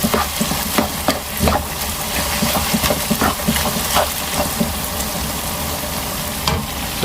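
Dates halwa with dry fruits cooks in ghee, a loud continuous sizzle with frequent close scraping and stirring strokes of a spoon in the pan, no talking.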